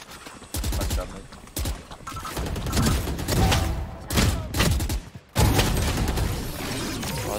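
Rapid bursts of automatic gunfire crackle in a Valorant match on the Sunset map, several loud sprays broken by short gaps, with one near-silent pause before the shooting resumes.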